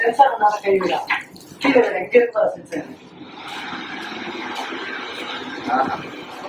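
People talk briefly, then a steady rush of running water from a tap fills the rest, constant and fairly close.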